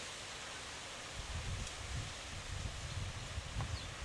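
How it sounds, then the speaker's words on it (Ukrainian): Soft wind hisses steadily, with low gusty rumbles buffeting in after a second or so; faint and continuous, no voices. "Вітер піднімається."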